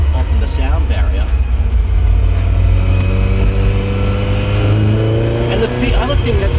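A 1977 Ferrari 308 GTB with a dry-sump mid-mounted engine revs and accelerates loudly nearby, its engine note climbing and holding steady for several seconds with a brief dip near the end.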